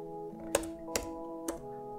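Keys on a computer keyboard tapped three separate times, each a short sharp click spaced about half a second apart, over a steady tonal hum in the background.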